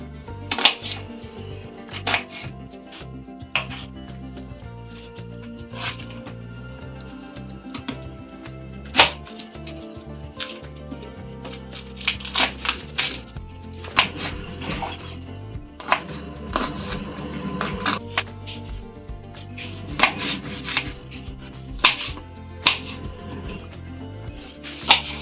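Ginger, garlic and cashew nuts being chopped with a knife on a board for green peas kurma, irregular crisp thuds, sometimes in quick bursts, close and steady over the whole stretch with no talk.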